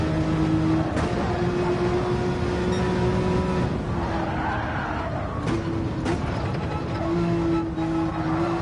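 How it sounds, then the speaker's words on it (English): Racing car engine from Gran Turismo 7 at the Nürburgring, reverse layout, holding a steady loud drone with pitch shifts as it brakes and accelerates through corners, continuous throughout. "I shouldn't have braked there."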